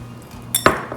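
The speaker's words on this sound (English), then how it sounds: "Let's mix this well." Cake batter of oil and sugar being mixed in a bowl for an eggless black forest cake, heard as two or three quick utensil clinks and scrapes against the bowl over a quiet room.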